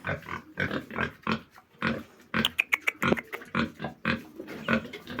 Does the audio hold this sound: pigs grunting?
yes